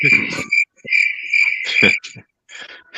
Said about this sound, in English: it's all crickets